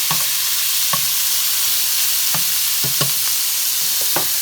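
Minced garlic from Costco browns in a pan with a loud, continuous sizzle, punctuated by several sharp clacks and scrapes of a utensil moving it around, up close with no voices.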